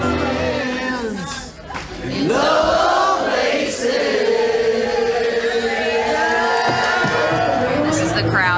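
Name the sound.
crowd outside Dueling Pianos on a cruise ship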